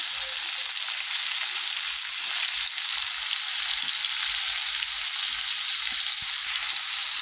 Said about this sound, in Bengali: আমার ভাজাটা হয়ে গেছে, ফুলকপি আলু ভাজাটা হয়ে গেছে